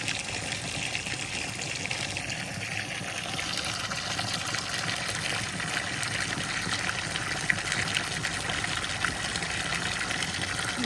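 Water pours and gushes steadily into an EPDM pond and stream liner, a continuous close rushing wash with no pauses.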